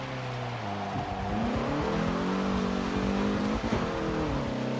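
Car engine revving hard while racing in the Forza video game, a loud, continuous engine howl that climbs and shifts pitch through gear changes and a brief dip near the end, with no talk.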